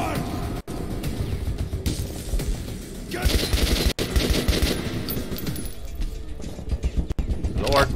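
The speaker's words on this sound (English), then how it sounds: "this bitch is shooting from down there" Enemy gunfire in Metro 2033 Redux rattles up from below in bursts of rapid machine-gun shots, loud and close, broken by sharp single cracks and metallic clinks, with a voice speaking over parts of it.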